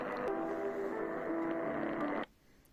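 An XHDATA X-608WB radio receiver tuned to the shortwave band gives a faint, steady hiss with a wavering tone for about two seconds, then cuts off abruptly into quiet.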